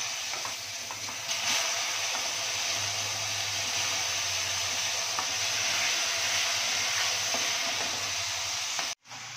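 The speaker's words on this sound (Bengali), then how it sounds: "এবারে আমি নুন হলুদ দিয়ে ভালো করে কুলটাকে ভেজে নেব।" Jujube plums (kul) frying in a wok with salt and turmeric for a kul pickle, giving a loud, steady, close sizzle that runs unbroken until it cuts out abruptly near the end.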